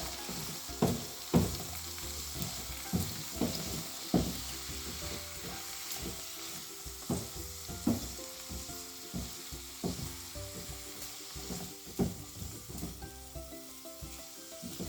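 Pasta with leeks, pancetta and peas sizzles in a single pan under a soft, steady crackle while a utensil scrapes and knocks at irregular intervals, close and fairly quiet.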